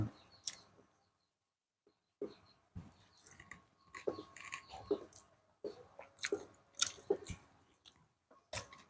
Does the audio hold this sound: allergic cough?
no